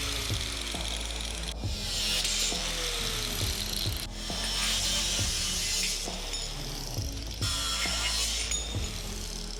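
An angle grinder cuts short three-inch pieces from steel tube for a transmission crossmember: a harsh, steady, close grinding roar that swells in several long stretches with brief dips between cuts.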